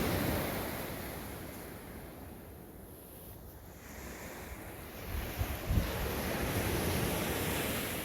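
Ocean surf at Fisterra on the Atlantic coast of Spain, a steady wash of waves with wind buffeting the microphone, swelling louder toward the end with a few sharper gusts.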